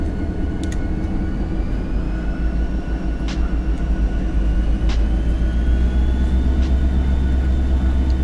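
A freight train in the Run8 train simulator game pulls hard under load with a steady low rumble and engine drone, faint squeals and a few distant metallic clanks as the cars strain and separate.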